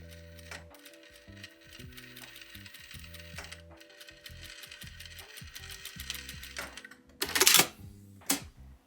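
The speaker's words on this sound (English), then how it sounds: "we're going to sew the bottom edge of that pocket bag with a 1/4 inch seam allowance" Sewing machine stitching the bottom edge of a fabric pocket bag, rapid mechanical rattling in bursts with brief pauses, ending with a couple of louder clacks.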